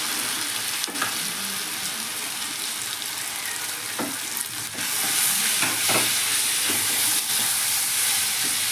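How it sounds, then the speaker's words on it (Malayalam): A steady, close frying sizzle comes from a pan of chili, turmeric, chicken masala and coriander powder, broken by intermittent scraping stirs. The sizzle gets a little louder partway through, and nobody speaks. "മുളക് പൊടി, മഞ്ഞൾപ്പൊടി, ചിക്കൻ മസാല, മല്ലിപ്പൊടി നമുക്ക് ഇട്ട് നല്ല ഇളക്കി കൊടുക്കാം"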